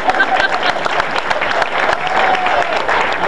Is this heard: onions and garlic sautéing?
no